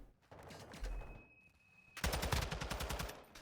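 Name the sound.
gunfire in a long-range gunfight, Call of Duty video game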